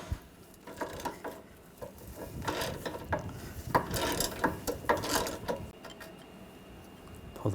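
A ratchet fitted with a 10mm socket loosens a bolt on the front bumper impact absorber of a 2013-2019 Ford Escape, giving quick runs of clicking pawl ratchets and metallic turning noises, close and clear, with no talking.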